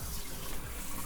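Water spraying from a kitchen sink sprayer: a dense, steady hiss of spray and splashing, moderately loud and continuous for about a second, with no talking.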